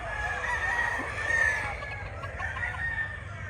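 A Bruce Barnett sweater gamefowl rooster crows once at moderate distance, a drawn-out call over a low background hum with no talk.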